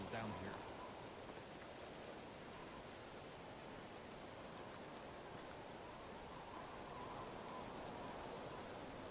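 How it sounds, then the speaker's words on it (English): Steady rain falls in the Medieval Dynasty video game on a summer morning, a dense, even hiss that holds at a constant level for the whole stretch without a break. "Oh my, what a rainy first morning of summer."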